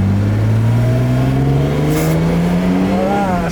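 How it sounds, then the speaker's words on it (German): A 1970 Mercedes 280 SL Pagode, fully restored, accelerates hard with a loud, close engine note that rises steadily in pitch as it pulls through the gear. "wenn man Lust hat, kann man auch mal richtig Gas geben."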